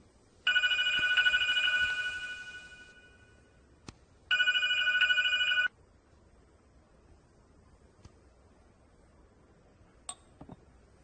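A telephone rings twice, a bright electronic trill in two separated bursts, followed by quiet with a few faint clicks and taps.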